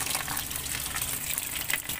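Thin, watery green engine coolant mixed with rust drains out after the drain plug is removed, a steady splashing gush of liquid pouring without pause.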